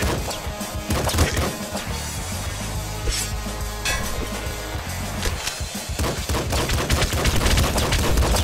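Rapid gunfire and crashing impacts from the top-down shooter video game Nuclear Throne, loud and continuous bursts layered over game music with no talking.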